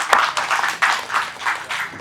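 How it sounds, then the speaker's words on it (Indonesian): Brief applause from an audience at a tourism training event in Banten, a short burst of scattered clapping heard close and alone. "Tepuk tangan ya."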